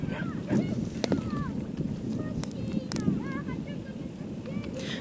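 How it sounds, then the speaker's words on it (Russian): Wind rushes and buffets the microphone at the seaside by the docks of Sukhum, Abkhazia, a steady roar with gusts, mixed with faint chirping sounds and brief clicks. "Ветер ужасный."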